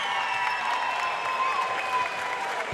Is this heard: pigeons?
no